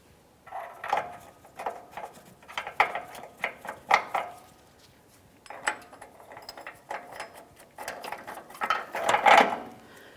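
Mounting nuts on a 2002-2005 Ford Explorer lower control arm are started by hand and tool, giving a series of light metallic clicks, ratcheting and clinking in close bursts, fairly quiet with short pauses between them.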